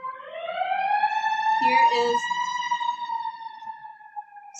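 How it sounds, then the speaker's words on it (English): Ambulance siren passing outside during an indoor movement class, a clear rising and falling wail that fades slowly, with someone briefly talking over it midway. "sorry for the ambulance"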